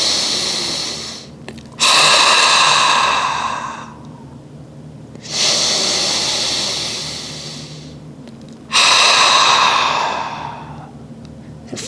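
A person takes slow breaths, in through the nose and out through the mouth as if fogging up glass; three long, loud, close exhales like sighs, each tapering off, separated by quieter inhales.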